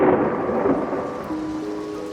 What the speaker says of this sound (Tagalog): Umuulan pa rin ng malakas at mukhang hindi talaga titigil.